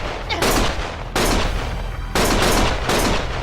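Rapid gunfire bursts from the action video game Lost Judgment, loud and sustained in three dense volleys with booming low rumble, a faint voice barely under the shooting.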